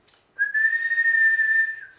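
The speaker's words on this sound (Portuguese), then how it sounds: "deu logo um assobio" A single sharp, sustained human whistle signals the start of a race between two on a city avenue, rising in pitch then holding a steady, piercing tone for about a second and a half, close and clear.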